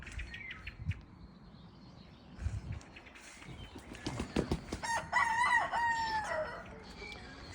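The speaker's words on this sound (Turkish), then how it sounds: "6 tavuk bir horoz var" In a village farmyard at morning, a rooster crows loudly near the end while six hens cluck softly and intermittently beforehand, with a few other bird calls around.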